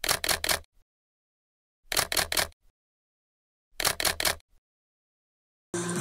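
Three quick sequences of SLR camera shutter clicks, each a fast run of four or so crisp snaps, spaced about two seconds apart in quiet surroundings during a photo shoot of a Hyundai i20N, with a brief different noise at the very end.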